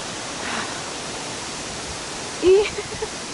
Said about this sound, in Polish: Ale tak wieje, że ja się muszę trzymać czegoś, żeby mnie nie zwiało.